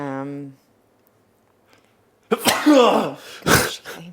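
A single sharp sneeze bursts out close by, followed by a short second burst, with a person talking briefly just before it.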